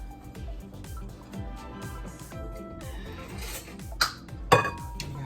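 A spatula scrapes strawberry ice cream mixture out of a bowl, with repeated close scraping strokes and light clinks, then two sharp knocks against the bowl near the end.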